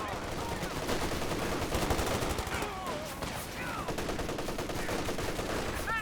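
MG34 machine gun fire in the strategy video game Company of Heroes 2 rattles off in dense bursts amid other battle noise, with scattered gunshots across a busy, mid-level soundscape.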